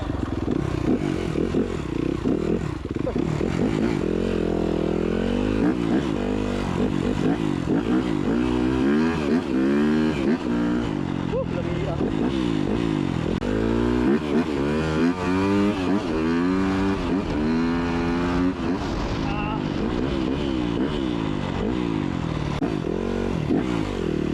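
A motorcycle revs on a rainy dirt trail, its loud engine rising and falling in repeated sweeps under an unbroken rough roar that lasts throughout, with no talk over it.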